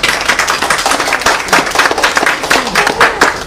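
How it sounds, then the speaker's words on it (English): Lively applause from the audience at a Singapore study-abroad seminar for MIS school, uneven close claps with some voices mixed in. "please help me to give all of you a round of applause"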